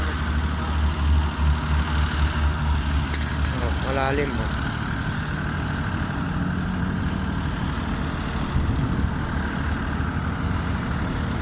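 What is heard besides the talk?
large water pump engines running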